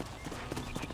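Horse hooves clip-clop in the video game Red Dead Redemption, a brisk run of close, fairly loud hoofbeats over dense background game ambience, lasting about a second.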